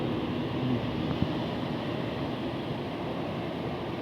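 An AKARI ionizer air cooler blows air, a steady broadband whoosh of fan airflow close to the microphone, constant in level without pauses.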